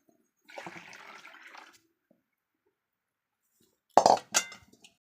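Hot cooking water is poured off boiled vegetables in a short, soft splashing stream, followed after a pause by a couple of sharp clinks of a pot or plate, all faint and close.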